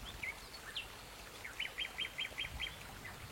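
Birdsong in a sparse forest: faint, high chirps and tweets, first a few scattered calls and then a quick run of about six evenly spaced notes, set against a quiet background.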